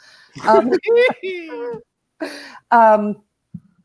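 A cat meows several times up close in clear, drawn-out wavering cries separated by short pauses, with no other sound between them.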